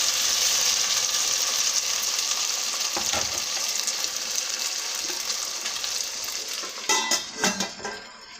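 Pieces of taro (colocasia) fry in a spiced oil tempering until reddish. A loud, constant sizzle fills the sound, with a few metal stirring scrapes and clinks toward the end and no voices.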